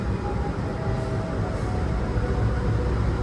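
Steady broadband rumble of a train rolling out of Purwakarta station in Indonesia, a continuous low mechanical drone of rail wagons heard from on board, with no distinct voices.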